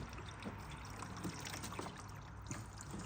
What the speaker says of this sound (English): that little stream of water coming out the filter